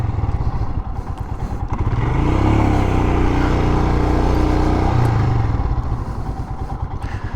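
A Royal Enfield Himalayan motorcycle engine runs steadily while being ridden, a close mid-pitched throb that swells in the middle and then eases back, with no talk over it.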